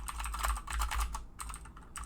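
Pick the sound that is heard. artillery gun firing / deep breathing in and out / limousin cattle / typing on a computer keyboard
typing on a computer keyboard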